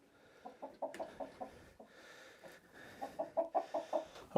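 Hens clucking on a Norwegian homestead, close rhythmic runs of short clucks in two bursts separated by a brief quiet gap.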